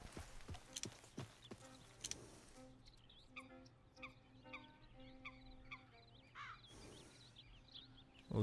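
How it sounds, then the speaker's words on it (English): Steady clip-clop of horse hooves moving along at a walk in Red Dead Redemption 2, with bird calls and game music tones layered over it. "Those are just horses."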